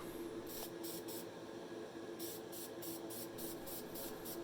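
Satin black Krylon spray paint misted onto the base of a Matchbox Porsche 911 Turbo model car: a series of short, quiet hissing bursts, three early and several more in a steady rhythm after a pause.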